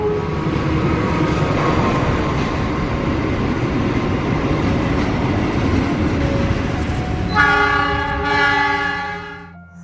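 A train at a station rumbles steadily and close for several seconds. Near the end a loud, sustained multi-tone horn sounds, and then everything fades out.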